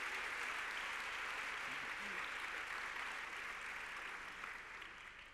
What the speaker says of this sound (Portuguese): podem prolongar um pouco mais a salva de palmas